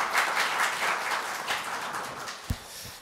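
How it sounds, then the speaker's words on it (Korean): An audience at a public hearing on unifying voucher cards applauds steadily for a few seconds, a moderate crowd clapping in a hall, ending with a couple of louder thumps. "큰 박수 부탁드리겠습니다"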